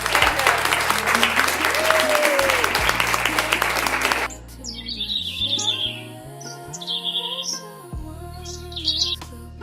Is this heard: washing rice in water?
no